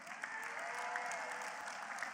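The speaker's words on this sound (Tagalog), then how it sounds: "So kayo, pumapalakpak kayo." A steady wash of audience applause, many hands clapping densely and evenly throughout without a break, fairly loud and full.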